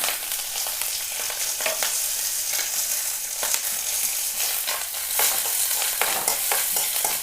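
Grated coconut and curry leaves fry in a hot pan, a loud continuous sizzle and crackle with occasional stirring scrapes, close up and without talking.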